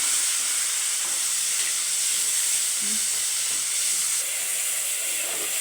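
Tomato and salt frying in a pan with mustard seeds and curry leaves, a loud, constant close hiss and sizzle with faint stirring underneath throughout.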